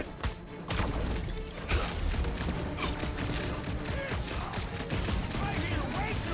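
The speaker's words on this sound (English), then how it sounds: "I hear way too much shooting" Sustained gunfire in a Guardians of the Galaxy game battle, a busy clatter of shots and mechanical impacts running nearly throughout, fairly loud and close, with voices speaking over parts of it.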